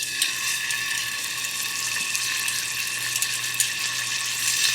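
Scallops searing in a hot pan, a faint steady hiss of sizzling oil with small crackles throughout, no talk.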